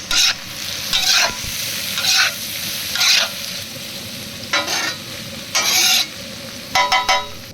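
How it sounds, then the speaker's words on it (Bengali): Mixed vegetables, egg, chopped onion, ginger and garlic stir-fried together in a pan, a continuous sizzle broken by repeated bright bursts of spatula scraping and tossing at a steady pace. "এই যে এখন সবজি, ডিম, পেঁয়াজ কুচি, আদা কুচি, রসুন কুচি সব একসাথে মিক্স করে ভালো করে ভেজে নেব।"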